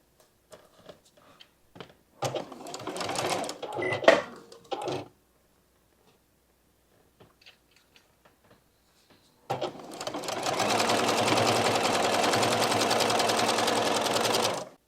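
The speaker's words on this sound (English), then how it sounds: "I'm just going to sew it on." A sewing machine stitches a quilt block, first in a short run of a few seconds, then after a pause in a longer steady whirring stretch, close up with no talk.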